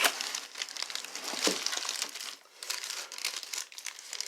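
Close, irregular crinkling and rustling of wrapping material as a package containing a car wheel hub is handled and pulled open.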